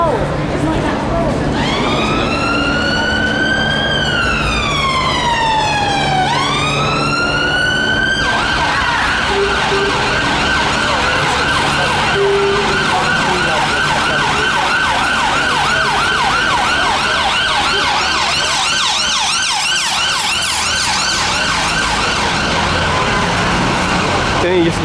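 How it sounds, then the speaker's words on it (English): An emergency vehicle siren wails loudly on a busy London street, sweeping up and down, then switching to a faster yelp pattern over traffic and street noise. "Don't you just love the sound of a siren?"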